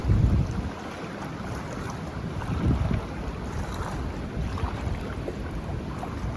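Splashing creek water at a crossing on the Havasupai trail, someone wading through cold knee-deep water outdoors, with steady broadband swishing, a louder surge near the start and around three seconds, and wind buffeting the microphone.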